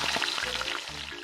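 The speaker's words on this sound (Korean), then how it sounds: "지글지글 맛있는 소리와 함께 익어가는 가지만두" Starch-coated eggplant dumplings deep-frying in hot oil give a steady, close, bright sizzle with fine crackling bubbles throughout, no voices.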